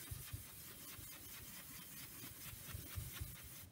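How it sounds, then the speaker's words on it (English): Colored pencil burnishing blue color on paper for a winter pine collage, a faint, continuous scratchy rubbing with rhythmic back-and-forth strokes, close up. "So I'm just going to burnish in the color."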